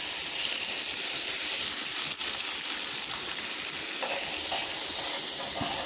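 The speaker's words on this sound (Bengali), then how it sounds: "মশলাটা কষানোর জন্য আমি পানি দিয়ে দিয়েছি" Water poured onto onion, garlic and cumin paste with salt, turmeric, coriander and chilli in a hot pan produces a loud, steady, close sizzling hiss with a few small scraping clicks.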